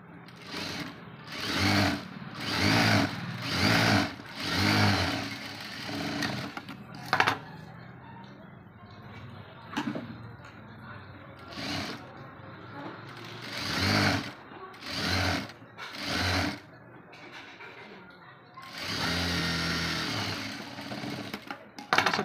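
An electric sewing machine stitching a small sleeve, running in repeated whirring bursts with short pauses between them, close and loud, with faint speech in the background during the breaks.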